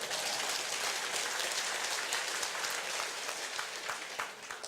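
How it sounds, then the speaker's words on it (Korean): An audience clapping at a company founding-philosophy talk, a dense, even wash of applause that holds steady and thins slightly toward the end, with no voices. "그러니까 여러분이 계속 박수를 치셔야 돼요"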